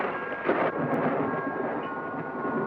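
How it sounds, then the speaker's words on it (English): Deep, steady rumble of thunder rolling on throughout, with a slightly louder swell near the start and a faint hiss of rain. "Come and watch the storm."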